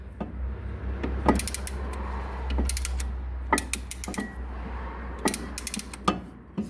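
A caliper piston spreader tool pushes a brake piston back into its caliper during an MK4 Golf/Jetta 1.8T brake upgrade, giving a run of close, dry mechanical ratcheting clicks in uneven bursts over a low steady hum.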